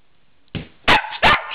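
Puppies bark in short sharp yips, first one softer bark and then two louder ones close together, heard near and alone in a quiet room.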